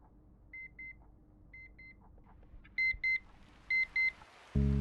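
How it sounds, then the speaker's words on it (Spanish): Electronic alarm beeping in quiet double pulses, first two soft pairs, then louder paired beeps repeating at a steady rhythm, close and alone before a sudden louder sound at the end. "La alarma de mi teléfono me sacó de esa especie de sueño."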